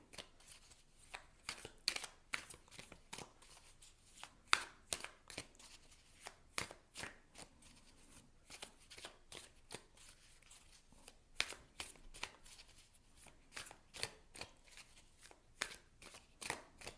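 A deck of tarot cards is shuffled close up in a quiet room, with repeated crisp riffles and soft slaps in an irregular rhythm throughout.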